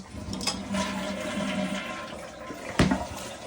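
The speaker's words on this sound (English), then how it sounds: "Flush it." A household toilet flushes with a steady rushing, swirling gush of water that holds for a few seconds, close by, with a brief clunk near the end and no talking.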